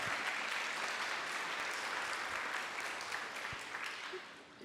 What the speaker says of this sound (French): On peut les applaudir pour ce qu'ils ont fait pendant ces 2 ans.